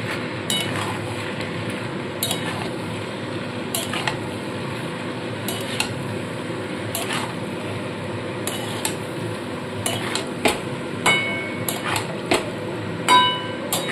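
Fried mixed vegetables being stirred into a pan for a festive-style mix veg dish, repeated metallic scrapes and clanks of a spatula against the pan over a low frying hiss.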